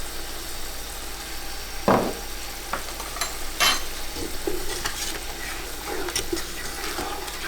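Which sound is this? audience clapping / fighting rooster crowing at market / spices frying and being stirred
spices frying and being stirred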